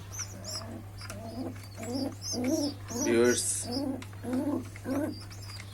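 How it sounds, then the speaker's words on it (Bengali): A pigeon coos in repeated soft, throaty bursts while feeding its chicks, close and clear over a steady low hum, with a person speaking briefly. "আজ আপনাদের দেখাবো কবুতর তার বাচ্চাদের কিভাবে খাওয়ায়"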